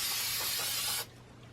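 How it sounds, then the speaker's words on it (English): A spray can of Blair low-odor workable fixative hisses in one steady burst over artwork for about a second, then cuts off, leaving quiet room tone. "I'm going to spray everything with a little bit of Workable Fixative"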